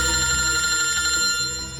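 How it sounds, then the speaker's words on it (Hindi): A telephone rings with a steady electronic tone, loud and close, holding for nearly two seconds before trailing off slightly at the end, no voices. "फ्रेडी का फोन?"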